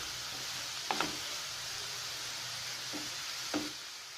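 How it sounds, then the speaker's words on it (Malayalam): Three large chopped onions with salt sauté in a pan for irachi pathiri, giving a soft, even sizzle with a few brief stirring clicks and no talk. "നന്നായി വഴറ്റിയെടുക്കുക."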